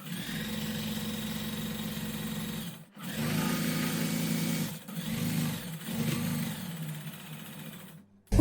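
Sewing machine running lock stitch along a girls' summer dress, a steady close mechanical whir in several bursts with short pauses between runs.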